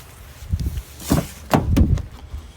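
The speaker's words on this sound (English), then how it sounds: "Let's pop the bonnet while we're here" A 2016 Ford Ranger Wildtrak 3.2 TDCi with 88k miles has its bonnet released and lifted, giving a few close metallic clunks and latch thuds spread over a couple of seconds, with no talking.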